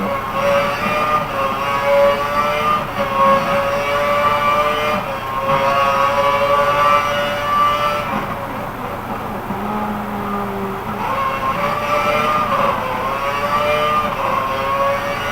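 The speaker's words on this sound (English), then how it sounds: "I have to try and gun this car as fast as I can just to keep fifth" A Formula One race car engine in the F1 2013 racing game on the Melbourne circuit, revving hard and steady at full throttle with rising and falling pitch through gear changes, loud and continuous with no talk over it.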